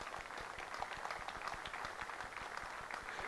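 Audience applause at an Amiga 40 convention panel in Germany, a steady wash of many hands clapping with no let-up, fairly loud and filling the room.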